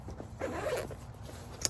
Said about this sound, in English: zippers, unzippers like that